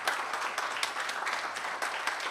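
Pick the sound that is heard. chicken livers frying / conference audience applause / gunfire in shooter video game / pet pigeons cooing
conference audience applause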